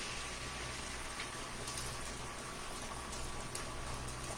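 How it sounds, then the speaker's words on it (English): Beaten eggs hit a hot skillet with a steady, loud sizzle and crackle, a dense frying hiss that holds evenly throughout, close by, with no talk. "So I'm going to pour those into my skillet."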